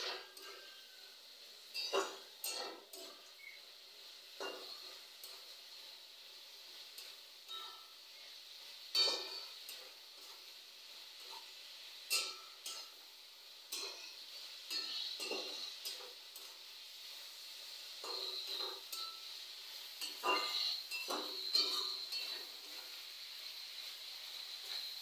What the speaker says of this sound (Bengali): আবার একটু ভালো করে নেড়ে চেড়ে নেওয়া হচ্ছে।